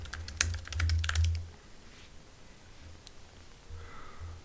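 Computer keyboard typing in a search for a card game deck: a quick burst of close, sharp key clicks in the first second and a half, then a few isolated taps amid quiet.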